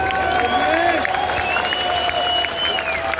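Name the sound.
crowd applause for Pastor Phil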